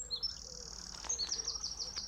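Wren singing at dawn at Elmley Nature Reserve, a fast high trilling burst of notes from a single bird at some distance, over a quiet background.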